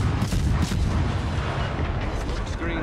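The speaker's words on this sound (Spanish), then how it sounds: "Y aquí me están dando tiros todos." Naval gunfire and shell hits strike a ship in the World of Warships: Legends video game, a dense, continuous rumble of booming impacts and blasts throughout, loud and unbroken.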